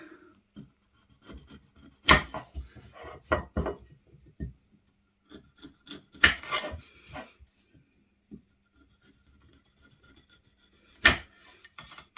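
A knife trims the ends off raw beetroots on a cutting board, giving a few crisp, close chops and short scraping strokes separated by quiet pauses.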